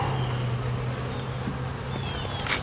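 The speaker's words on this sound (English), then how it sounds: "Let's see if we can find that queen bee." Bees buzz in a steady, dense drone around an opened beehive, a constant close hum with faint scattered movement and no speech.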